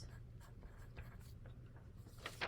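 Pen writing on paper, a few faint, short scratching strokes with a low background hum, heard close up and alone.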